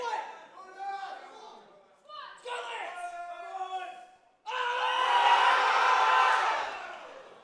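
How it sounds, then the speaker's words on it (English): A coach yells hard for his lifter at a Special Olympics powerlifting nationals. Loud shouts come in bursts, then a big crowd cheer swells and fades out. "Aiden screaming for his lifter."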